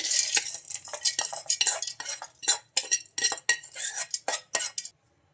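Roasted ingredients poured and tipped into a metal grinder jar, giving a dense run of bright clinks, rattles and scrapes with short pauses, close and fairly loud, ending in silence.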